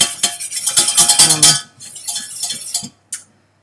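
A metal whisk stirs a flour-thickened white sauce in a pan, giving quick, close scraping and clinking strokes that pause briefly and end in a short clink.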